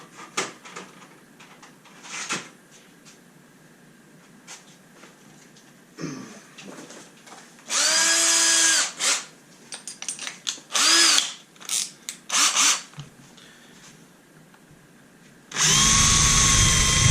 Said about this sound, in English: I actually am going to drill a hole in here.